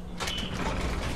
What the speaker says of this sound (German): Dann öffnen wir doch mal das Magnetschloss